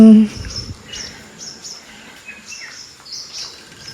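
Birds at early morning outside a luxury hotel in Wayanad give repeated high chirps and short calls, faint and somewhat distant against a quiet background after a brief opening tone.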